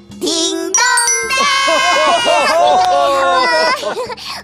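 A bright ding-dong-dang correct-answer chime on a Korean children's kindergarten show rings out loud and close as a sustained run of layered bell tones, lasting about four seconds before fading.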